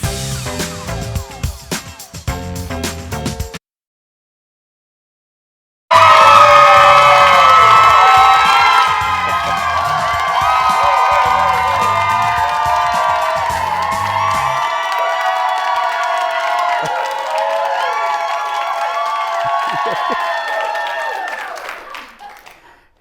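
A large crowd cheers loudly, a sustained roar of shouts, whoops and applause that holds steady and then fades out, after a short burst of other sound and a brief silence.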